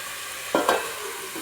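Chicken pieces in oil with turmeric and rock salt get stirred in a pan, giving a quiet continuous sizzle and a couple of brief scraping knocks from the spoon.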